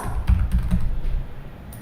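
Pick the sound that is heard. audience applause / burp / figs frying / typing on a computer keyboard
typing on a computer keyboard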